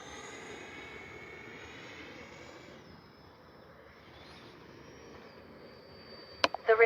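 Freewing A-4 Skyhawk 80mm EDF RC jet passing overhead, a steady distant ducted-fan whine that fades gradually, with a few sharp clicks near the end.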